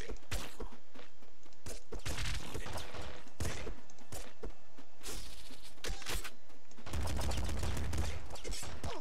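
Rapid bursts of gunfire and bullets in the video game Nuclear Throne, many sharp close shots crackling in quick irregular volleys, loud and nearly continuous, with brief talk.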